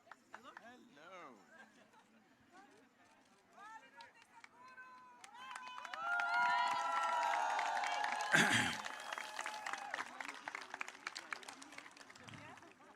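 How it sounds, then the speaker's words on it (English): Audience in Belgrade clapping and cheering at a live event, a dense crowd roar swelling from about six seconds and staying loud, with voices and shouts mixed in after earlier speech. "You're clapping your hands, what is this?"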